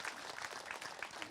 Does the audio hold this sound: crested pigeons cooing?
no